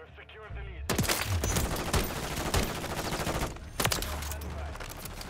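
Rapid bursts of gunfire in Modern Warfare 3 crackle loudly and densely, with sharp individual shots punching through sustained automatic fire, a short lull, then more shots.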